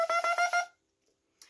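Bassoon double reed of two pieces of cane bound with thread, blown on its own: a short series of about four buzzy, squawking pulses, close and fairly loud, then silence with a faint rustle.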